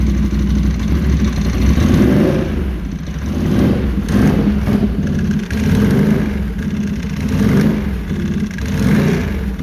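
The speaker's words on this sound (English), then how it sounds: "We gave it some gas. It's idling fine." The engine of a 2016 Can-Am Renegade 1000R XMR ATV rumbles loudly close by, rising in several revving surges and settling back to a rough idle between them.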